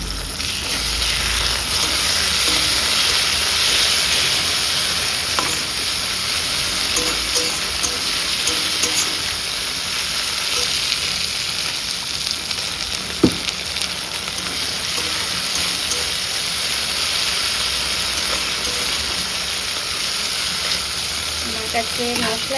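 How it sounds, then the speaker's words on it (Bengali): Onions frying in a pan with a little tomato ketchup crackle in a loud, continuous sizzle, with occasional stirring clatter of a spoon against the pan. "অনেকটাই প্রায় পেঁয়াজটা ভাজা হয়ে গেছে।"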